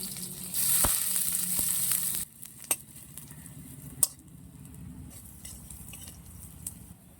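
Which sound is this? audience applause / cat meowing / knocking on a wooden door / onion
onion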